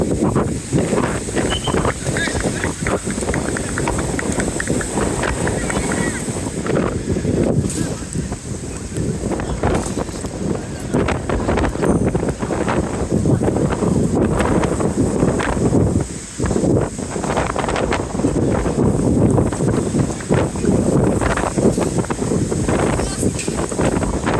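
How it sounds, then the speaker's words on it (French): Wind buffets the microphone at a youth under-12 football match, a continuous loud rumbling roar with gusty swells that nearly masks the faint background voices. "C'est venteux."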